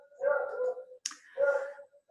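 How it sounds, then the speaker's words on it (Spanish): A small dog barks twice in a quiet room, two short, moderately distant yaps about a second apart, with a brief click between them. "el perrito que está ladrando"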